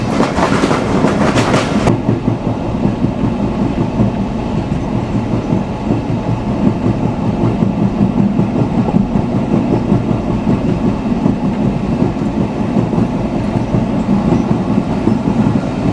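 Onboard the Khulna–Benapole Betna Express, an old train with vacuum brakes, a steady loud rolling rumble carries rhythmic clickety-clack over the rails, with a brief brighter rattle at the start.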